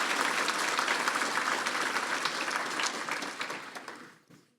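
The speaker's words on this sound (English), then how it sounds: "How about a round of applause for our," Sustained audience applause at a public safety awards ceremony, a dense wash of many hands clapping that holds steady before fading out near the end, with no talk over it.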